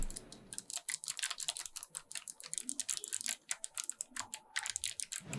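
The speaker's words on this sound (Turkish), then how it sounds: "her tuşa bastığınızda yüksek bir tıklama sesi çıkaran GL click'i sürme olarak geçiyor" Rapid, uneven clicking of a mechanical keyboard with clicky switches being typed on, sharp bright keystrokes in quick bursts, close and fairly quiet, with no voices.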